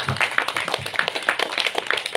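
Scattered audience clapping at a church feast, uneven and fairly close, with individual claps standing out over a light murmur of voices.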